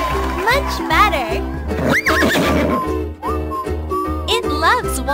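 A cartoon horse in the pony-care video game Princess Horse Club: Baby Take Care of Cute Pony gives repeated loud, bright neighs and whinnies over steady game music and hoof clip-clops, while a narrating voice gives grooming instructions.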